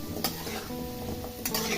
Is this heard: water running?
no